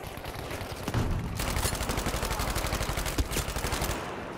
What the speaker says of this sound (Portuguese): Mas tá atirando aqui na grade, galera.